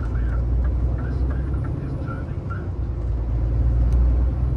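HGV lorry driving along a single carriageway, a steady low diesel engine drone and road rumble heard from the cab throughout, with a voice speaking over it.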